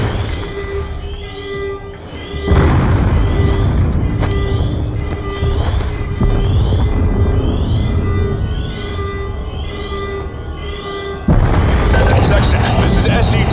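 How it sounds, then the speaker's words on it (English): Explosions boom across a facility during a Call of Duty Black Ops II mission, with heavy low rumbles surging in around the two-second mark and again near eleven seconds, loud and continuous under game music and tones. "We're monitoring multiple explosions across the facility."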